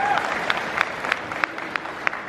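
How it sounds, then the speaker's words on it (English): A crowd at the Play Expo 2015 gaming convention claps steadily, with a few sharper individual claps standing out above the dense applause. "Can we give him a big round of applause?"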